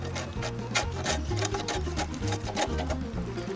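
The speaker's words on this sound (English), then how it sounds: "So I plane a little bit the cheek of the tenon again." Rhythmic scraping strokes of a hand plane across the cheek of a wooden tenon, repeating steadily and close by, with no talk.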